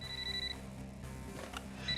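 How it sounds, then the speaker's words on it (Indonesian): A home telephone rings with a bright electronic trill, quiet and brief, over a low background hum. "Telepon rumah tiba-tiba berdering."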